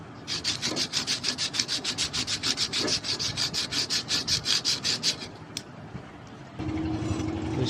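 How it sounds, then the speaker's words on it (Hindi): Sandpaper scrubs the stator stampings of a cooler motor in about twenty quick, even back-and-forth strokes, close and distinct, then stops, leaving a low steady hum. "तो इसमें हम पहले रेगमाल मारेंगे"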